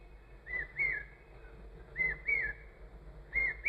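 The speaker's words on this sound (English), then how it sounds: "give your whole mind and heart to that bird that's calling" A bird calls outdoors in three repeated bursts of bright chirping whistles, each a short rising-falling phrase spaced about a second and a half apart, moderately loud over a soft low background hum.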